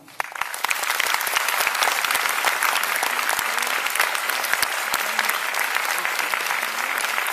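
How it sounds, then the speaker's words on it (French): A French audience applauds steadily to welcome the film's co-producer at a screening presentation, dense continuous clapping filling the room at moderate distance, with no talk over it. "je vais vous demander d'accueillir avec moi la coproductrice française du film, Anne-Dominique Toussaint."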